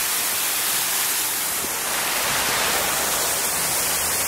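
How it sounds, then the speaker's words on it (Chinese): Spring water gushes forcefully from a fountain in Bulgaria, a steady, dense, close rushing roar that fills the whole stretch with no voices. "这泉水喷的劲儿挺足"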